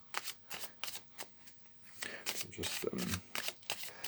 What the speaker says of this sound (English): And so I'm going to pull a few cards to see.